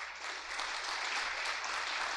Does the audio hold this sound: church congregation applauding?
yes